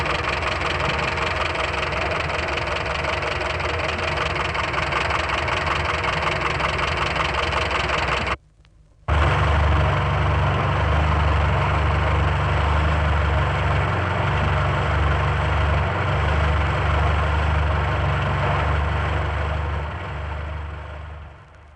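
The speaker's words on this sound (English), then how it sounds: "Here's a fine set of faulty tappets on a 4-cylinder engine, followed immediately by the same engine with its tappets correctly adjusted" A 1964-era 4-cylinder car engine idling with loudly clattering faulty tappets, then after a brief gap the same engine running smoother with correctly adjusted tappets, a steady close rumble throughout.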